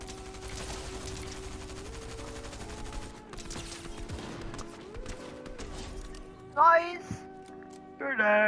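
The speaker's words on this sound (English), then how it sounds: "I think there's someone shooting the tank." Rapid gunfire crackles in a video game battle near a tank, a steady stream of shots over a humming engine drone, followed by voices talking excitedly.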